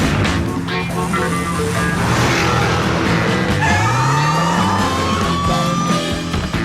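A Dodge Challenger with a 485-horsepower Hemi V8 roars loudly and revs up through a rising engine sweep, mixed in with music and other sound effects.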